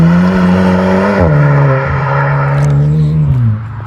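Volkswagen Golf 7 GTI TCR pulling away hard, heard from outside: a loud, close exhaust note that rises through the revs, dips at a quick shift, then climbs again with a raspy, buzzing tone.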